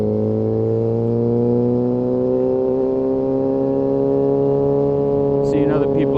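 Kawasaki ZX6R sportbike engine humming steadily at cruising speed on a ride, a loud, continuous tone that rises slightly in pitch, with a short whining flutter near the end.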